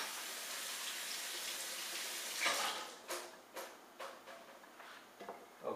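Carrots rinsed under a running kitchen tap for fish head soup, a steady faint water hiss broken by several short splashes and knocks as the pieces are handled.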